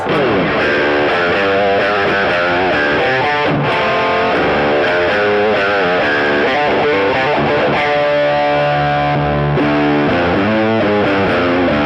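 Heavily fuzzed electric guitar through a Chelsea fuzz pedal with EQ, in an alternative rock style, played loud and bright, churning through chords and riffs without a break.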